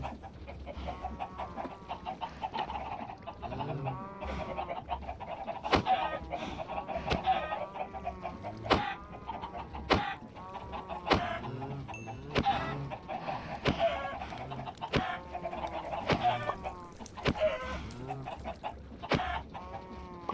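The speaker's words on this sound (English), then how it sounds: "These chickens better hope that there is at least one in this little thing." Chickens in a video game cluck over and over in an irregular stream of short calls, close and clear. There is no speech over them.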